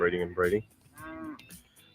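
Wild-bred cattle on an Australian farm, two loud close moos followed by a longer, softer drawn-out bellow.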